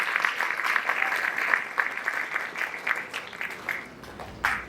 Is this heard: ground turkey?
no